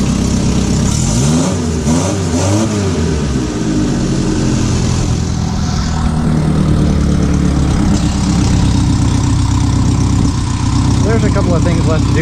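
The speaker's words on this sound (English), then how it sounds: "Oh, idle, maybe a little high." Close and loud, a 1964 Fiat 600D's 767cc engine with Supertrap exhaust idles slightly high and steady, with a couple of brief revs swelling early and again near the end.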